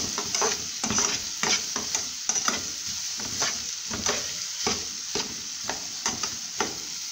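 Bell pepper for a quick salad is stirred in a pan, giving steady scraping and clattering strokes with a faint sizzle underneath, repeating in an uneven rhythm throughout.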